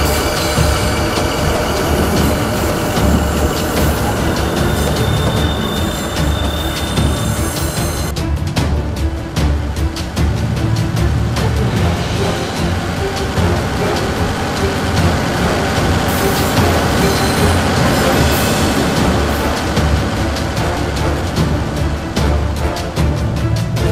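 A train runs steadily on rails for a long stretch, a loud, continuous rumble with clattering wheels and faint squeals, heard close by with no voices.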